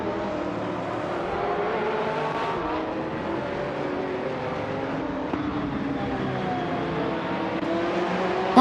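A 2004 Toyota Corolla race car in the TCA class circles a track, its engine droning steadily at a moderate distance with no voices.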